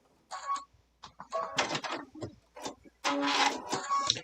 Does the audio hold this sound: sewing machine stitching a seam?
yes